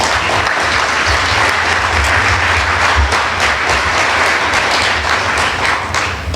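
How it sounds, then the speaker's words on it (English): Loud, dense applause from a debate audience after a primary debate speech, many hands clapping steadily and close for several seconds without a break. "You can clap for that."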